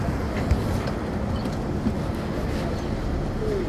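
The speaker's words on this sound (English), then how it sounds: "So that was the subway, huh?" A New York subway train rumbles past nearby, a heavy, steady low roar with faint rattles lasting throughout.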